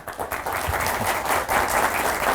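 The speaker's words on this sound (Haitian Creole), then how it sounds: "On applaudit encore plus fort." A crowd applauds loudly and continuously, a dense wash of many hands clapping that swells slightly toward the end.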